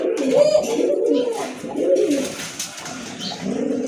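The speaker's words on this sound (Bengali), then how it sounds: "আরেক জোড়া কবুতর দেখেন খুবই সুন্দর কবুতর দেখার মতো" Soft, low cooing from pigeons in a few rounded phrases, close by, with faint chirps and background murmur.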